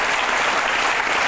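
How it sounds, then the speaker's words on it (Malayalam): A studio audience at a televised courtroom-style interview show bursts into loud, dense applause, a sustained wash of clapping with no pauses. "we should give A loud round of applause please"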